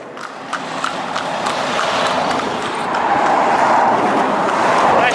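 Pony hooves clip-clop steadily on a road during traffic training on a loose rein, a continuous rhythmic patter under steady background noise with no talk.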